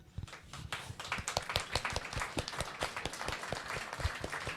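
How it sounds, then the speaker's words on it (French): Applause from a studio audience on a French cinema television programme, a sparse patter of individual claps at moderate distance, steady for several seconds with no voices over it. "on applaudit encore très très fort les Lolus"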